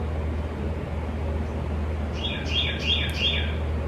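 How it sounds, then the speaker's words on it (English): Birds chirping outside a room, a short run of high, quick tweets in the second half, faint over a steady low background hum, with no one talking. "I've got some loud birds"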